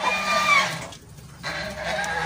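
Shamo chickens in a farm pen cluck and crow nearby in a continuous, busy din, with a brief lull partway through before the calls resume.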